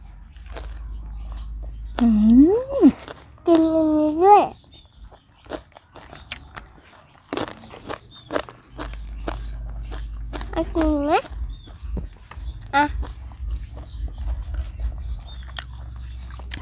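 Someone eats chili dip with blanched vegetables, taking crunchy bites and chewing close by, while voices talk and call out between mouthfuls.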